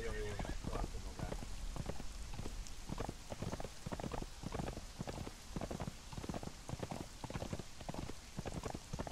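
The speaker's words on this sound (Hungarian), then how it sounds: "Amióta ide kerültem, ezt a lovat használom, és még nagyon jól tartom magát." Horse hooves in the video game Conan Exiles clip-clop in a steady, brisk rhythm throughout, close and continuous over a faint hiss like light rain.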